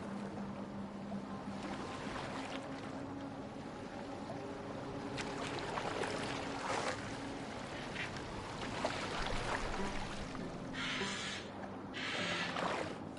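A boat glides over water in Assassin's Creed Valhalla, with a steady wash of water and occasional louder splashing surges, and no voices.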